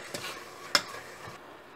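Pounded lemongrass fries in a pan with a soft, low sizzle, and a few scraping stirs land sharply near the middle.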